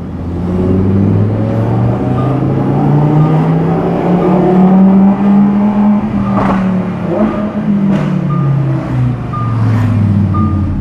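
A Lamborghini Huracan Performante driven in Corsa mode on a road near Monaco, its engine droning loud and close with a pitch that rises and falls through the throttle, plus a few brief sharp blips from gearshifts.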